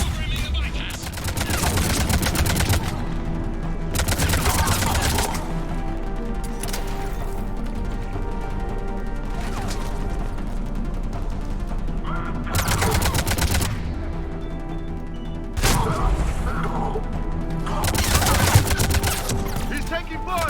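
Sustained bursts of automatic gunfire from a Mass Effect 3 firefight, several loud volleys breaking out in clusters over a constant battle din, with shots crackling near and repeatedly throughout.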